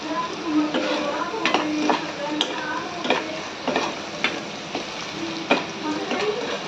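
Tomatoes with salt fry in a pan with a continuous close sizzle, punctuated by repeated sharp clinks and scrapes of a spoon stirring against the pan.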